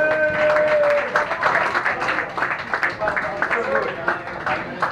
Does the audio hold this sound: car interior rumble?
no